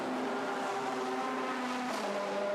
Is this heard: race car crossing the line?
yes